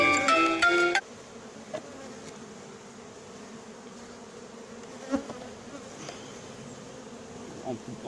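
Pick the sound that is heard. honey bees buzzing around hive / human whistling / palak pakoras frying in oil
honey bees buzzing around hive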